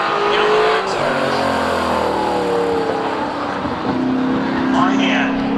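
Spectator drag cars, one of them an Audi, launch down the strip at Seekonk Speedway, engines revving and rising in pitch as they pull away, loud and close, with a commentator talking throughout.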